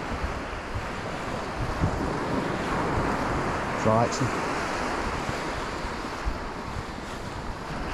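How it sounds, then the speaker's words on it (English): Steady roar of surf washing onto a shore with wind buffeting the microphone; a person says a few words briefly partway through. "you can't beat the sound of the waves crashing in."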